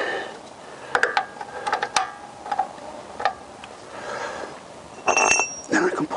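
Metallic ticking and clinking of a ratchet with a T-bar working on a tight oil filter on a Vauxhall Insignia, a series of irregular clicks followed by a louder clattering burst near the end.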